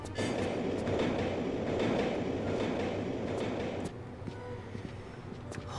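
A subway train in the Aldwych station level of Tomb Raider III, heard as a loud, steady rail rumble with rattling that eases slightly after a few seconds and then continues at a lower level.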